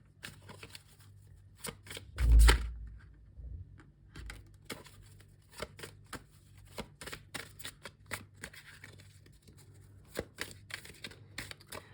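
Tarot cards shuffled by hand before more are drawn, a long run of quick papery riffles and flicks with one louder thump early on, close and alone, no talk.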